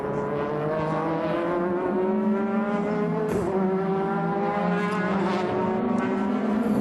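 Super GT race cars at Motegi, among them a Nissan Z, roar past in a steady, loud stream of high-revving engine tone with shifting pitch, heard alone without talk.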